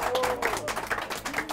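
Applause from an audience at a ceremony honoring a student, a short burst of clapping with crowd noise and some voices mixed in.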